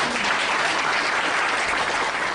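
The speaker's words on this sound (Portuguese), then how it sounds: "Para Mário Quintana, uma salva de palmas" Steady applause from an audience at an academic cultural event honoring the poet Mário Quintana, dense clapping sustained evenly throughout without a break.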